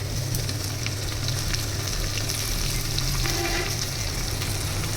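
Chopped onion fries in oil with bay leaf, cloves, cardamom and cinnamon, giving a dense, continuous sizzle that stays loud and even throughout, with faint stirring beneath.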